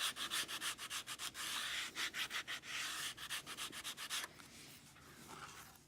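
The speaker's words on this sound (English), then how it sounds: "I will also use my sanding stick and rough up part of this one" Rapid rhythmic scratchy strokes of a sanding stick roughing up leather for a backpack, close and crisp, then slower, softer rubbing near the end.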